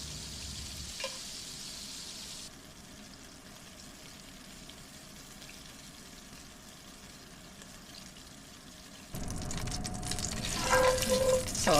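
Beef pieces for stew brown in a hot pan with a soft, continuous sizzle, and a louder clatter with running water breaks in near the end.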